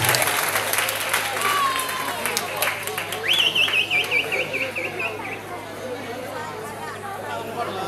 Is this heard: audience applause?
yes